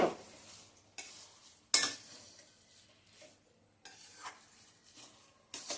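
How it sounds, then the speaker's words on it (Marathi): Garden cress seed ladoo mixture being stirred in a pan over medium heat, with a few sharp utensil scrapes and clinks and softer scraping strokes in between, close and fairly quiet. "हे सतत असं हलवत आपण शिजवायचं आहे"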